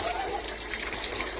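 Cold tap water splashes steadily over dogs being bathed, a close, continuous spattering gush heard over a brief moment.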